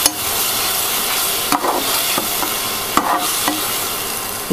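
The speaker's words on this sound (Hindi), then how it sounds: "टमाटोज की प्यूरी। इसको अच्छे से हमने चला लेना है।" Tomato puree is stirred in a hot pan over a steady, close frying hiss, with the spoon knocking against the pan in several distinct taps and no talking.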